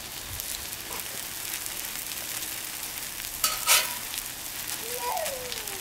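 Food fries in a hot pan, a steady close sizzle and crackle throughout, broken by a brief clatter of stirring or utensil scraping partway through.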